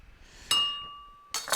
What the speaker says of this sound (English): Did not mean to hit the glass so hard.